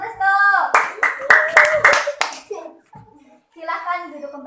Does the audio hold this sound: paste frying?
no